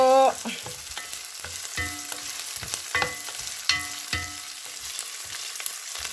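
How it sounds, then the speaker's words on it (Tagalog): Ingredients for a sautéed mussel dish (ginisang tahong) sizzle in a pan, with steady frying hiss broken by repeated spatula clanks and stirring scrapes close by. "Ako po ay maggigisa."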